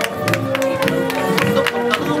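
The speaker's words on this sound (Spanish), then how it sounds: "Fuerte el aplauso." Rodeo crowd applauding and cheering for the first champions at a club event, a steady dense wash of clapping with bursts of cheers, with a voice over the loudspeaker in the background.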